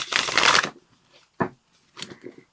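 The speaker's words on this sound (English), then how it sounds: "now I will shuffle your tarot cards" Tarot cards, from the Tarot of the Haunted House deck, are riffled in a dense papery burst, followed by a few sharper isolated card snaps and taps close by.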